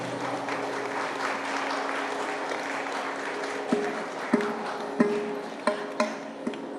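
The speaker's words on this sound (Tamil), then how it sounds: "கொஞ்சம் கரகோஷ எழுப்புங்களேன்." An audience at a dance and music school's annual celebration applauds a welcomed guest, a steady wash of many hands at moderate distance, with a few sharper claps standing out near the end.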